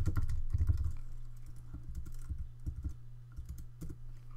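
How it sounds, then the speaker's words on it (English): Quick runs of computer keyboard keystrokes, close and fairly quiet, clicking in irregular bursts over a low steady hum while text is entered in a game editor. "I'm going to just type flashback in here as well"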